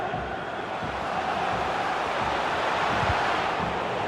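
Stadium crowd in FIFA 22 during a Europa League final, a continuous broad roar swelling slightly, heard alone without commentary.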